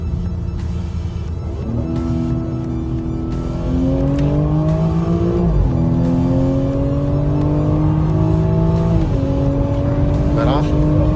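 BMW 340 with a new charge pipe, engine revving loudly while driving, climbing through the gears with several shifts and a brief dip before pulling hard again, voices faint underneath.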